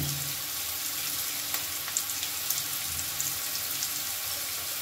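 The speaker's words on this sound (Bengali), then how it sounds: "আলু, ফুলকপি, বাদাম, ক্যাপসিকাম মোটামুটি ভাজা হয়ে গেছে" Potato, cauliflower, peanuts and capsicum frying for chow mein give a steady, moderate sizzle with faint crackles throughout, no voices.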